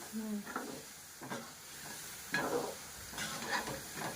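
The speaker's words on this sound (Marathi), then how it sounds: "ते आपण मॅरिनेट केलं ते फ्राय करून राहिले" Marinated fish or prawns fry in a pan with a quiet, steady sizzle, interrupted by a few stirring or turning scrapes and faint traces of a voice in the background.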